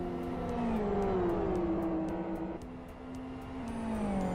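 Racing cars in the Live for Speed driving game crossing the start-finish line, a steady layered engine drone with shifting pitch as several cars pass close together, continuous and fairly loud throughout.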